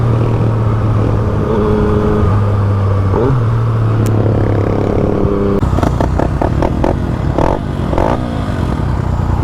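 A 2016 Yamaha FZ-09 three-cylinder motorcycle, loud and close while riding, its engine drone rising through several sharp revs and gear changes in the second half, with no talk.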